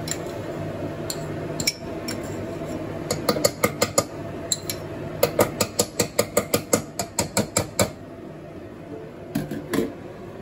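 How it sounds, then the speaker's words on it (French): Potatoes dropped one after another into a cooking pot, giving a loud run of sharp clattering knocks in quick irregular bursts, close up, with no talk. "je reprends la marmite, je mets les pommes de terre dedans"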